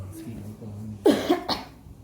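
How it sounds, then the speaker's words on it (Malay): A person coughs twice in quick succession, near and fairly loud, after a stretch of quiet low murmuring in the room. "Batuk je lah"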